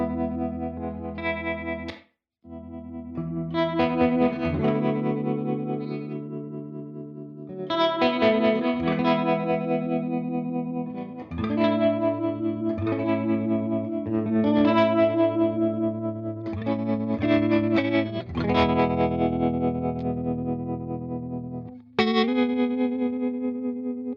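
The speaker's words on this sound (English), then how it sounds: "It's a great sound in tremolo." Universal Audio Ruby '63 amp played with its tremolo engaged, chorded guitar notes and runs pulsing steadily in volume, ringing out clearly and alone with no talk over it.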